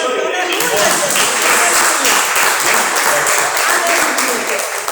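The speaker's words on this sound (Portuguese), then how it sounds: "Aplauda o Senhor, igreja." A church congregation applauds during worship, a dense sustained clapping throughout with voices mixed in underneath.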